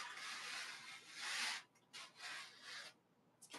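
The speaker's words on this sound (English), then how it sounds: "Or I take these big scrapers and you can do cool stuff" A big scraper drags paint across a canvas during abstract painting, making close, rough broadband scraping strokes in several passes with short gaps between them.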